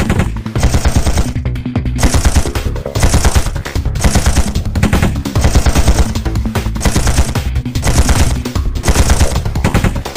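Sustained machine-gun fire in the mobile idle RPG Chaos Mecha: dense, loud rattling bursts run almost continuously, broken by a few brief gaps, with no talking.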